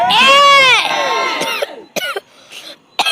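A church congregation shouts "hey" together in a loud, sustained group cry, followed by several shorter bursts of crowd shouting and voices.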